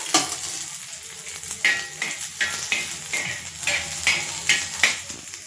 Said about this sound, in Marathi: आता अद्रक लसूण टाकलंय तेल टाकून भाजून घ्यायचं